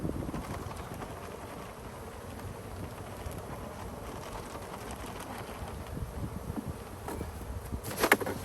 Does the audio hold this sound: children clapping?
no